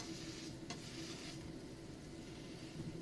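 Daikon pancake, a galette-style grated radish cake, frying in a pan, with a steady soft sizzle throughout and a faint spatula scrape near the start.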